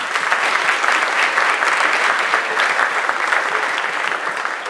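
A large audience at a panel event bursts into loud, sustained applause, a close, dense roar of clapping that holds steady and tapers slightly at the end.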